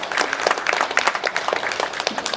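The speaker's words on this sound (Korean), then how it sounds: "큰 박수로 환영해 주십시오." An audience at a public event applauds warmly as a guest is welcomed to the stage, a loud steady burst of many hands clapping with no talk over it.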